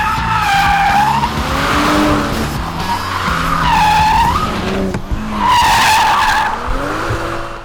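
A 2023 Toyota Supra with a manual gearbox driven hard on a test track, engine revving and tires squealing in repeated skidding bursts, loud and close, with no talking.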